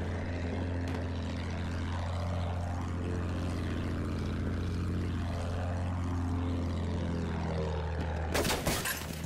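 A propeller fighter plane droning in Battlefield 1, a steady low engine hum with pitch sweeps as it passes, ending in a sudden crash-like burst of noise.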